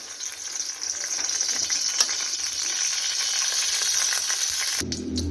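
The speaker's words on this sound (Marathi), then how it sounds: "तर आता आपण सिक्स्टी फाईव्हला थोडंसं फ्राय करून घेऊया" Chicken 65 sizzling in oil in a pan, a steady bright frying hiss that holds evenly, then breaks off into a brief clatter at the end.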